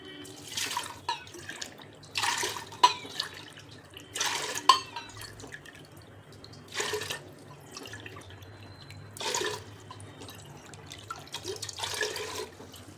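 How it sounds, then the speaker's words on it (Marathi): Water pours into a pressure cooker in several separate splashy bursts with quiet gaps between them, close by, over a low background hum. "त्यासाठी आपल्याला पाणी घ्यायचं आहे 7 कप"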